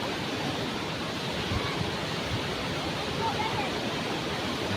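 Steady, broad rushing water fills the whole stretch without a break, like a waterfall heard from a short distance: Randha Falls in full flow.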